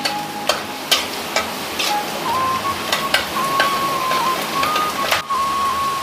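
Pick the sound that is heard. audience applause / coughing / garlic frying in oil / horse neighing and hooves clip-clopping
garlic frying in oil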